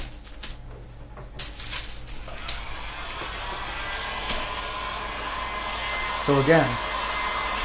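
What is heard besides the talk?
heat gun heating the belly of a Scythian bow limb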